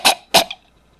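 Two sharp coughs in quick succession, close and fairly loud, followed by a faint trailing breath.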